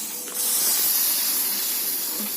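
Rice batter for chitoi pitha poured into a hot oiled pan sets off a sudden loud hiss that holds steady and bright like steam, close up, with no talk.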